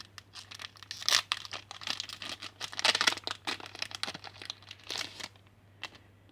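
Crinkly foil wrapper of a Yu-Gi-Oh booster pack being torn open and crumpled, close and loud in irregular bursts of ripping and crackling, then fading to quiet handling at the end.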